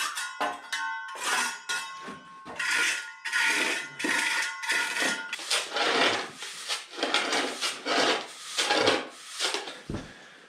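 A hand float smoothing the top of a freshly packed concrete shower tray base, with close, loud, rhythmic rasping strokes that come in repeated sweeps and have gritty sand texture.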